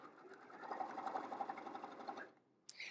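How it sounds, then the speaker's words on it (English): A sewing machine stitches two fabric pieces with batting along a quarter-inch seam, a steady close whirring run that stops abruptly near the end, followed by a short click. "you're sewing the two pieces of fabric just as you would normally, okay, with a 1/4 inch seam, and the batting is just coming along for the ride"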